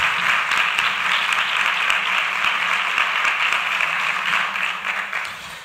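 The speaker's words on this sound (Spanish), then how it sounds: "Un fuerte aplauso para Miguel Ángel" An audience at a parapsychology congress gives a speaker a strong round of applause: loud, dense, sustained clapping close by that holds steady before tapering off at the end.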